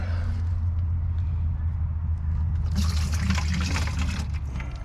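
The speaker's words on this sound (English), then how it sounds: "Get a cup and put some into our watering tin here." Mixed liquid is poured from a cup into a watering can in a garden, with a splashing, filling gush that rises partway through, heard over a steady low engine-like rumble.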